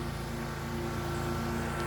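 Steady outdoor machinery drone working nearby, a continuous low engine hum with a mechanical pulse, moderately faint and unbroken throughout.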